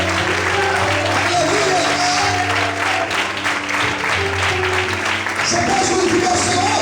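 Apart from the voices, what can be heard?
church congregation applauding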